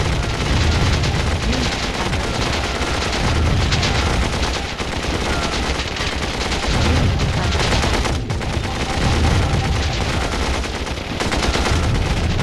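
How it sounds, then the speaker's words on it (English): Machine guns fire at bunkers in the Warzone 2100 video game, a continuous, loud rattle of automatic fire mixed with booms and explosions that lasts the whole clip. "All my machine guns are in one position. And we will set them to attack"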